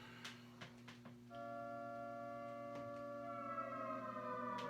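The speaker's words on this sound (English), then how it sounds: "the nuclear sirens go off every so often" A civil defense siren wails steadily in the distance, its tone holding and slowly shifting, with a few faint knocks and rustles nearby at the start.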